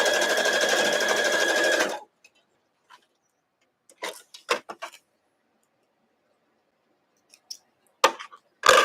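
A domestic sewing machine stitches a quilt block, running in a steady close mechanical whir for about two seconds, then stops and leaves only scattered small clicks and handling taps.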